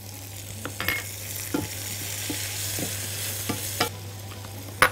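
Onion, a garlic clove and thyme fry quietly in a pan, giving a soft, steady sizzle broken by a few sharp clicks of stirring.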